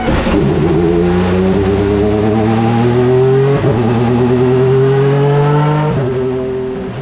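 A loud Honda CR-V hybrid race car engine screams as it accelerates, pitch climbing through several gear shifts with brief dips between, close and continuous.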